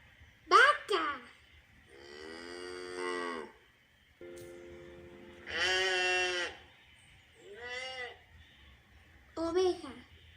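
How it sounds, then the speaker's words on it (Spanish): A sheep gives a single drawn-out bleat in the middle, between short spoken words in Spanish by a presenter listing animal sounds. "oveja"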